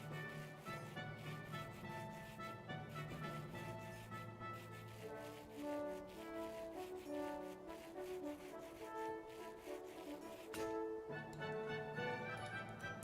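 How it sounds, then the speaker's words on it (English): Sandpaper rubs in the Minecraft modpack Craftoria, faint repeated scratchy strokes sitting under steady background music, with no talk. "new sheet of sandpaper"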